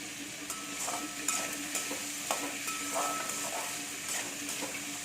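Ingredients for an instant raw mango pickle are sautéed in a pan, a soft continuous sizzle with scattered scraping stir strokes, fairly quiet and close, with no talking.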